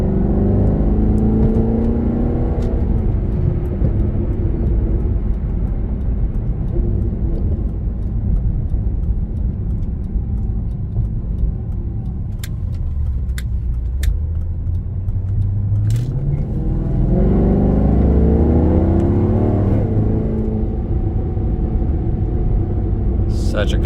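A 2013 Maserati GranTurismo Sport engine rumbles loudly and continuously, with rising and falling revs and automatic downshifts under braking, plus sharp crackles near the end.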